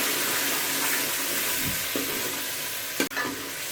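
Water is poured into hot masala in a cooking pan, producing a loud, steady sizzle with faint stirring clinks and a sharp metallic knock near the end, and no voices.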